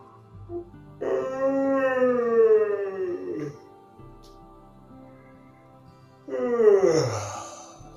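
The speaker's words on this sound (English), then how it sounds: "5 more great big yawns to release whatever needs to go now" Two long, drawn-out yawning vocalizations with a falling, moaning pitch, separated by a few seconds of quiet, close and fairly loud.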